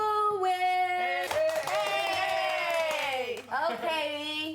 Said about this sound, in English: Clap, big claps for